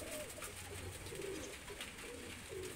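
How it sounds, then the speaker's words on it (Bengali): Two pigeons bred from Golden and Teddy birds give a few low, drawn-out coos close by, standing out over a steady background hiss. "এই দুটো কবুতর হলো গোল্ডেন কবুতর আর টেডি দিয়ে করা দুইটা কবুতর দেখেন"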